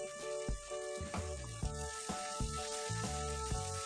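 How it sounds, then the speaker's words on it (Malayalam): Tomato and curry leaves sauté in a pan as the masala for Kerala-style mackerel pollichathu, giving a steady close sizzle broken by repeated scraping stirs about every half second, with background music throughout and no talking. "എന്നിട്ട് നന്നായി വഴറ്റി കൊടുക്കാം."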